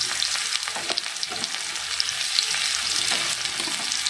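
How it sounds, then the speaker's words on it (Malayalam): Small shallots frying in hot coconut oil in a pan, a steady dense crackling sizzle with fine spattering pops, close and constant, with no talking. "എണ്ണ ചൂടായി കഴിയുമ്പോൾ വെളിച്ചെണ്ണ കേട്ടോ ഏറ്റവും ടേസ്റ്റ് നമ്മളിതിലേക്ക് കുറച്ച് ചെറിയ ഉള്ളി ചേർത്ത് കൊടുക്കണം"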